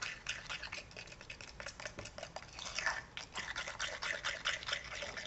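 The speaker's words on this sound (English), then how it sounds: "it's kind of gritty, so you always want to make sure that you stir it really well" Gritty Miss Lillian's Southern Rust paint being stirred in a jar, a close, steady scraping and grinding with rapid irregular strokes throughout, no voices over it.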